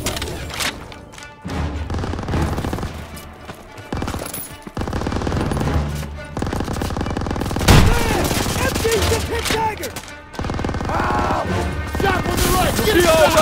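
Machine gun fire and explosions in the Call of Duty: World War II campaign roar loudly and almost without a break, with crashes and booms mixed in and shouted voices under the battle.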